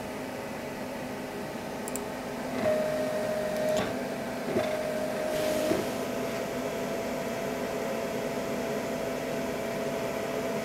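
LaserPecker 4 laser engraver working on an aluminum business card, giving a steady mechanical whir with a faint tonal hum and a few brief louder passes near the start.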